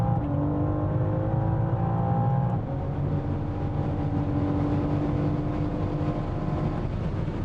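A rare BMW M4 Bovensiepen Zagato, one of only 99 built, drives flat out on the high-speed Salzburgring circuit; its engine roars steadily and loud with a rising pitch, a sudden shift near the start, then sustained high revs and road rush.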